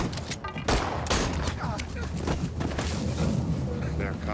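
Gunfire in a movie battle scene, loud bursts of shots and heavy rumbling blasts in the first half, then continuing battle noise under a voice talking.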